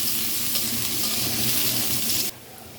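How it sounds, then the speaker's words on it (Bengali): Onions fry in oil with cardamom, bay leaf and cinnamon in a wok, giving a loud, steady, close hiss that drops sharply near the end. "পেঁয়াজটাকে লাল করে ভেজে নেব।"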